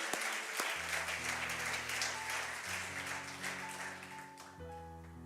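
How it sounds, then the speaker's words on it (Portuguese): A church congregation at a worship service applauds loudly and continuously, the clapping running alongside sustained organ or keyboard chords. "Aplaudam forte ao Rei"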